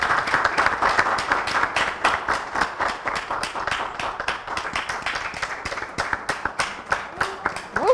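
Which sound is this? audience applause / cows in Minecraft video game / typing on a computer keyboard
audience applause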